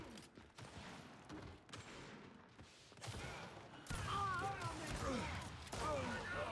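Gunshots in a Gears 5 free-for-all match, sharp reports standing out over the game's background noise, with a player's voice mixed in underneath.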